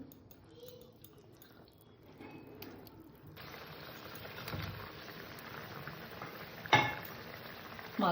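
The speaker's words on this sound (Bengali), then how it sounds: "এবার মাছ দিয়েছি আবার একটু ফুটিয়ে নেব" Tilapia fish curry with cauliflower, kohlrabi and potato simmering uncovered in a pot, a steady soft bubbling hiss that grows fuller partway through, with a brief clink near the end.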